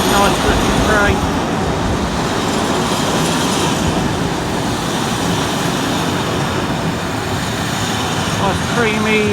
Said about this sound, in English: We've got two Class 47s coming into Market Harbour today with the blue Pullman carriages on.